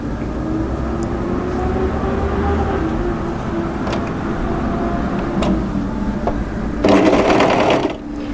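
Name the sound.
overlocker sewing stitches on jogger seam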